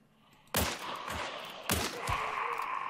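Two sharp pistol shots ring out about a second apart in the video game Hunt Showdown, each a loud, close crack followed by a short echoing tail over faint ambience.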